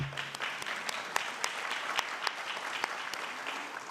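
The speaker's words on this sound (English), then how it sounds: "I didn't expect somebody to clap for the money, but that's cool." Scattered clapping at a county government State of the County address, with a few distinct, sparse hand claps ringing out at uneven intervals at moderate level, rather than full applause.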